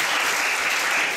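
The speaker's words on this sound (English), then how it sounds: "let's give them a round of applause for their great talk." An audience applauds after a community talk, with steady, dense clapping that stays loud and unbroken the whole time and carries no voices.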